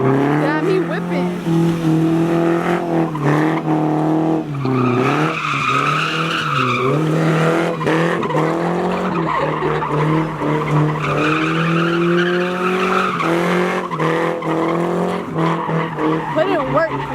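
A car drifts on a canyon road, its tires squealing loudly and continuously as the engine revs and wails in shifting pitch, with voices of onlookers nearby.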